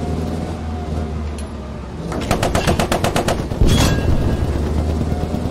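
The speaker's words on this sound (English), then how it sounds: "Or is that you shooting? I'm shooting, yeah." Rapid automatic gunfire rattles out in a long burst over the heavy rumble of a Churchill tank during a night battle in the Post Scriptum game, loud and close, with a second, shorter burst following.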